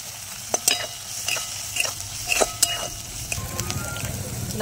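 Onion frying in a pan with crushed garlic crackles softly, while a spoon stirring against the pan adds a string of sharp scraping clicks.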